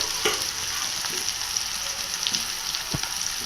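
Raw plantain slices sizzle steadily in hot oil for a Chettinad-style stir fry, with a few soft scraping stirs of a spatula breaking through the continuous frying hiss.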